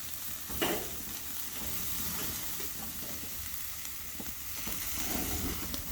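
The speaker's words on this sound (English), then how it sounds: "all I'm trying to do is get a good sear on each side" Steaks sear on a charcoal grill outdoors on a farm, giving a steady, close crackling sizzle with faint stirring and scraping clicks, no talk.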